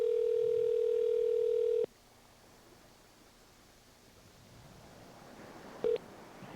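A telephone call placed to a voicemail line: a steady dial tone holds for nearly two seconds, then cuts to a faint hiss, followed by a short tone near the end before the greeting.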